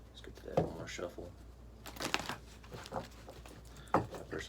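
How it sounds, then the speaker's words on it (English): Tarot cards are shuffled in quick, soft riffling bursts close by, with quiet pauses between them. "Let's get to that one more shuffle."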